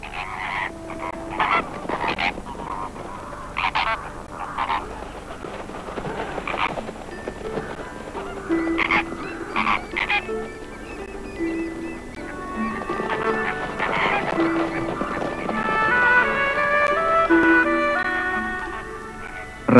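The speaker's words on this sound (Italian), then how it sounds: "basta l'improvviso decollo di alcune oche egiziane a mettere in allarme" Egyptian geese take off near a zebra herd with repeated harsh honking calls, close and fairly loud, building into a busier cluster of cries toward the end.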